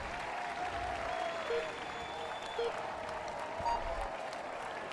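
Crowd applause in a Tour de France 2015 video game, cheering Romain Bardet at the start of the Utrecht time trial; steady broad clapping noise throughout, with a faint voice murmuring beneath.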